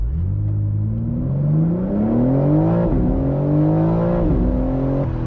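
A 2025 BMW M4 Competition Convertible accelerates hard from a standstill, its loud engine rising through the revs with a stepped note at each upshift, heard close from inside the car with no one speaking.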